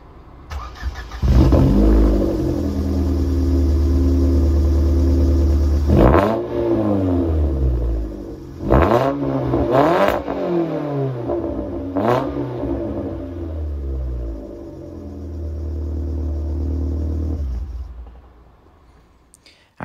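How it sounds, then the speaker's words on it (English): A Ford Fiesta Zetec S with a 1.6 engine and aftermarket exhaust starts, then revs up several times in sharp bursts between a held, droning idle, loud and close, ending as the engine drops away. "And now just a quick video of the exhaust."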